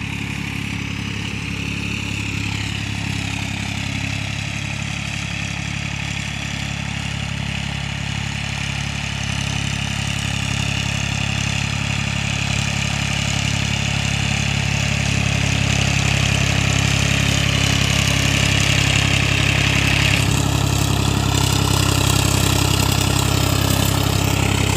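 A Farmtrac 60 tractor fitted with a T20 turbo idles with a steady, loud, low diesel rumble and a continuous higher turbo whine on top, holding constant with a slight rise near the end.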